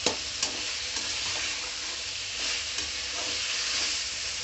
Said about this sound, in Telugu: ఈ టమాటాలు నూనెలోనే బాగా ఉడకబెట్టుకోవాలండి. అడుగు అంటుకోకుండా అది అట్లనే కలుపుకుంటూ ఉండాలండి.